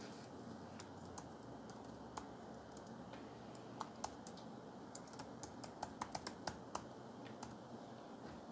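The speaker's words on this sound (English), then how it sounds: "let me just type in Velleman kits" Laptop keyboard typing, with quiet, close key clicks in irregular bursts over a steady background hiss.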